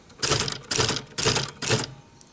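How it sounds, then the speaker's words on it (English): Keys struck on a Remington Quiet-Riter manual typewriter, four distinct clacking bursts in a steady rhythm, close and fairly loud, each with the carriage advancing a space. "as you press a key, it writes, and then it also moves the carriage over 1 space"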